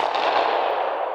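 A shotgun fired at a clay pigeon during shooting practice, a single loud, sharp blast whose report rings out and slowly fades over about a second.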